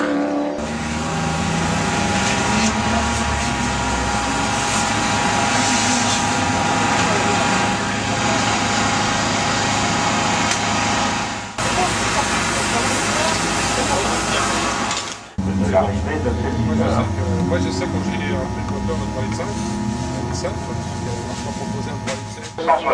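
A race car engine at the 12 Heures du Santerre 2014 endurance race pulls into the pits, a loud, sustained high-pitched whine with dense mechanical buzz, a sudden cutoff partway through, then more engine noise and clatter, with a voice talking over it.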